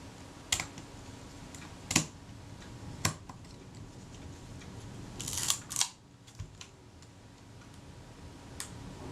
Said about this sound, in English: There's the film release, there's the shutter.